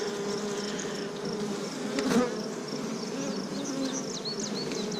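Honey bees buzz continuously in a hive, a dense droning hum close by with individual bees whining past now and then.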